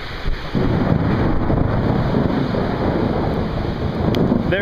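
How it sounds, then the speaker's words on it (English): A Las Vegas storm sends a long, steady roar of rolling thunder mixed with heavy wind buffeting the microphone, loud and continuous with no talking. "There's that awesome thunder and lightning I was telling you about."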